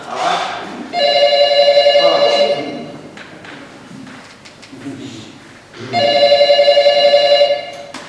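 A telephone rings in two loud bursts of electronic tones, each lasting about two seconds with a pause between, while a person talks faintly underneath.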